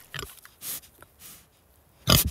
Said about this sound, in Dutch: We hebben hier gekozen voor het inzet van varkens tegen de uh, invasieve de Japanse duizendknoop.